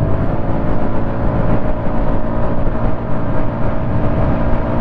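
A Honda RS125 motorcycle engine drones steadily while riding in fourth gear, a dense, loud, constant rumble mixed with wind noise, holding an even pitch without clear revving.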